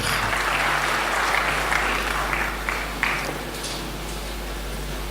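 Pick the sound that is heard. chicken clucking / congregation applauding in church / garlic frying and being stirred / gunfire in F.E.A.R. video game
congregation applauding in church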